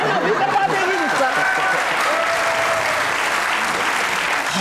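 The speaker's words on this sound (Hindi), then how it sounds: "अम्मी के लिए पहले तालियां तो बजाओ ना" Studio audience clapping on a comedy talk show, a full, steady round of applause mixed with a few voices and light laughter throughout.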